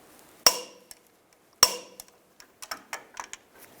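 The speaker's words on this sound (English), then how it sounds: "Now I'm going to torque these two bolts to 148 foot-pounds." Torquing the rear brake bracket bolts on a 2002-2009 Chevrolet Trailblazer: two sharp metallic clicks of a torque wrench ring out close by, followed by softer tool clinks and handling taps.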